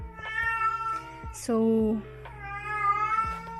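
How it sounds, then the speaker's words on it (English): A house cat meows loudly up close, one drawn-out cry in the middle, while a person talks around it. "sorry, that's my cat."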